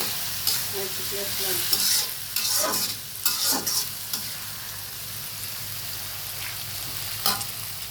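Onions sizzle in a hot pan while a utensil scrapes and stirs them in irregular bursts, the frying hiss steady and close underneath, with no voices.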